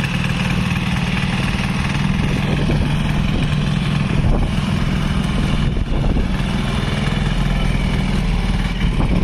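A 7 hp chain-drive cultivator engine runs steadily at idle, a close, continuous low throbbing rumble with no talk over it.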